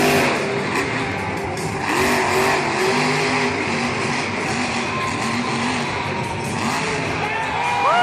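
Grave Digger monster truck at a Monster Jam stadium show in San Diego, its engine roaring and revving steadily for the whole stretch amid crowd noise, with a commentator talking over it.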